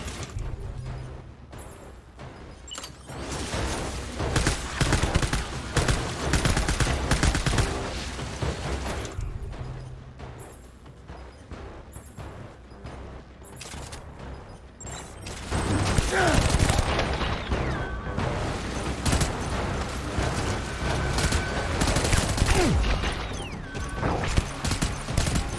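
Gunfire in the video game Death Stranding Director's Cut, dense rapid bursts and booming impacts rolling on loudly and continuously under a busy game soundtrack, swelling heavier in the second half.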